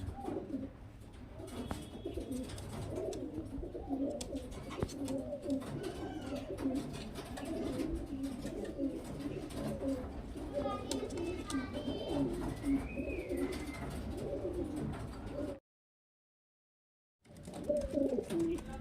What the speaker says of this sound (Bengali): খুব সুন্দর কোয়ালিটির পায়রা দেখতে পাচ্ছেন